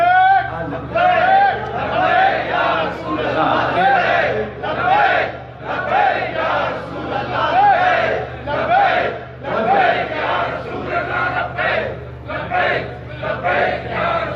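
A large crowd at a religious sermon gathering in Karachi chants the Labbaik slogan in loud rhythmic unison, repeated cries rising and falling over about fourteen seconds.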